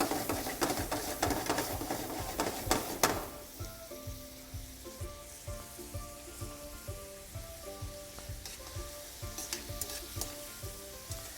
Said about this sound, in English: I've got this on really high heat. I want this cooking to happen fast so my shrimp stay nice and tender